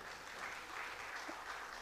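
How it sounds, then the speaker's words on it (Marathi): A hall audience at an award ceremony for a Mumbai Marathi journalists' association anniversary claps in dense, sustained applause. It is even and steady throughout, with no voices over it. "जोरदार टाळ्या होतात."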